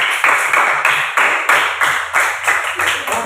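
A classroom group claps in a rhythmic pattern, about a dozen sharp, evenly spaced clap bursts, loud and close, with faint voices underneath.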